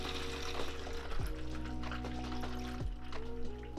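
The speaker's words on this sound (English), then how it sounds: "There's no order really, I just pour any one of these in" C-41 stabiliser photo chemical is poured into a bottle, giving a faint steady liquid trickle with a couple of gurgling bubble pulses over a constant low background hum.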